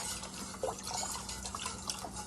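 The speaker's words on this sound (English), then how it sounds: "there goes all the broth, mixing it in" Broth being poured into a pot of polenta, a trickling, splashing flow of liquid with small drips, steady and close for a couple of seconds.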